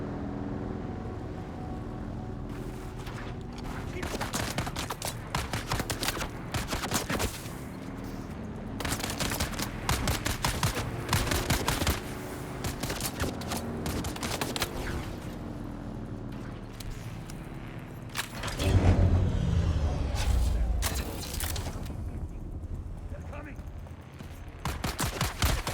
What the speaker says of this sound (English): Oh, so that's what it is, a spice explosion.